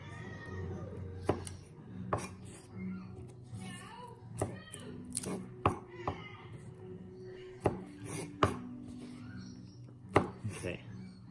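A knife chops and dices garlic on a cutting board, sharp irregular knocks of the blade landing close and clear, with a voice talking softly between the cuts.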